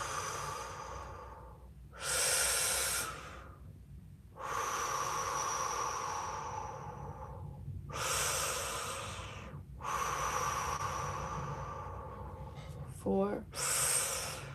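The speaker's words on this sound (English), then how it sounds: "Let's breathe in and exhale any shadow of dishonesty." Deep breaths drawn in and slowly exhaled during a guided breathing exercise, several long airy inhale-exhale cycles, close and fairly loud, with a brief sharp snort near the end.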